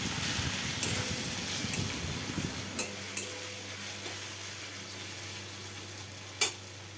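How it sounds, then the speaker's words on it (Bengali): Ginger and garlic sizzle with browned onion in a pan, a steady low frying hiss broken by a few sharp stirring clinks and scrapes, close and alone with no voices. "আদা রসুনটা ভাজা হয়ে গেছে"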